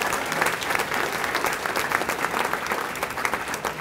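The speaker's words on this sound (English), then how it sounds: "so a big round of applause for both of them for that" Steady applause from a crowd at a senior athletics awards dinner, an even, continuous spread of many hands clapping at moderate volume.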